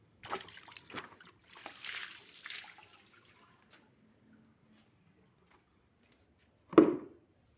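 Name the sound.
water splashing while washing car parts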